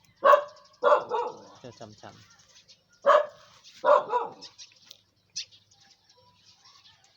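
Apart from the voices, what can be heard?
dog barking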